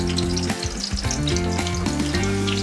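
Onions frying in a pan for chicken curry, with a loud, steady sizzle running throughout and stirring clatter mixed in.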